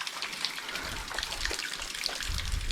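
Water trickles and dribbles steadily through a water line at a rural Sri Lankan site, a soft continuous splashing wash that stays fairly even for the whole stretch, with no voices.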